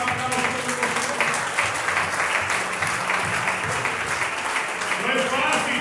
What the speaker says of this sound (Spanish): Un aplauso a los de costumbre, por favor, ayúdenme.